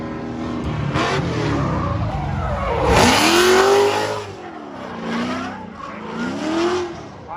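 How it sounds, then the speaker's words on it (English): A high-revving V8 engine in a gray BMW E36 screams through a drift at a competition, the pitch rising and falling with each throttle stab, with tire squeal and a loud roaring pass midway. "Piloting that V8-powered gray E36 BMW."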